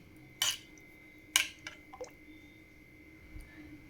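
A few soft clinks and scrapes of a utensil against a pot while cooled batter is stirred into buttermilk, two sharper knocks standing out from the quiet, close and unhurried.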